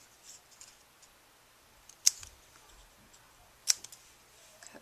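Scissors snip through paper layers for a handmade card: two sharp, distinct cuts a moment apart, close and crisp, over a faint quiet room background with no talking.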